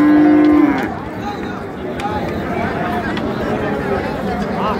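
A bull moos loudly at a busy cattle market, one long low call at the start, then fades into steady crowd chatter and market bustle.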